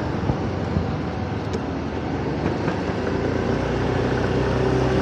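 A Yamaha D'elight 125 scooter being ridden through the streets of Nice, its small engine a steady low drone mixed with road and wind noise, continuous and close throughout.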